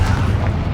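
Confringo, the blasting spell in Hogwarts Legacy, lands as one loud, close, deep boom with a short rumbling body.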